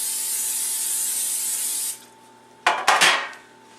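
Cooking spray hisses steadily onto a baking dish for about two seconds, then the dish clatters and scrapes a few times against the counter.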